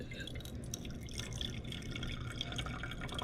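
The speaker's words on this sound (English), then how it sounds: "pour it into a different flask, pour it from our stock to a separate set" Hydrochloric acid is poured from a stock container into a separate laboratory flask, giving a soft, continuous trickling and splashing of liquid, quiet and steady throughout with no talking.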